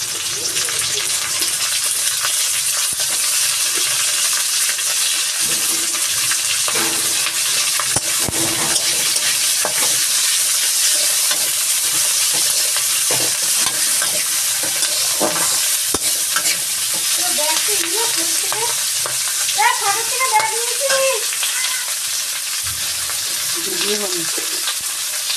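Loud, steady sizzle of frying in a pan with onion stalks being stirred in, scraping and clinking throughout, near and continuous with no talk.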